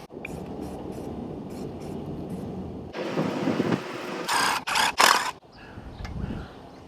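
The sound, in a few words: spraying etch primer from a can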